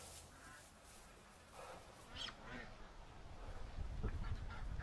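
Muscovy ducks inside a duck coop give faint, scattered calls and honks among low rustling and handling noises, with an occasional soft voice in the background.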